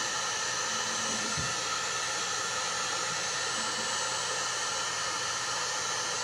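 Heat gun blowing a steady, close, loud airy hiss with a low hum underneath while heating the tip of a pop-up tent camper storage part, continuous and alone with no talking.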